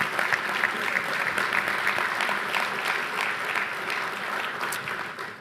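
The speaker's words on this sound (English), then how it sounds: "Let's give him another round of applause." Sustained audience applause at a Vanderbilt summit session on Russia and Eurasian security, honoring General Walters: a dense, steady wash of many hands clapping, moderately loud and even throughout, easing slightly at the end.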